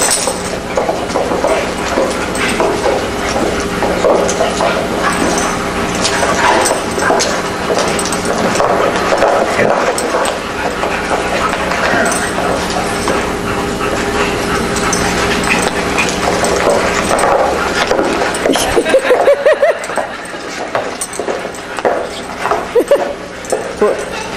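Dogs playing together, a small one with larger dogs, giving whimpers, yips and scuffling noise over a steady background hum, loud and continuous, with a few brief voices in between.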